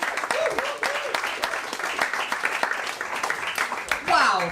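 An audience at a year-end event applauds a speaker named Prem with sustained crowd clapping, while a voice briefly rises over it near the start and again at the end.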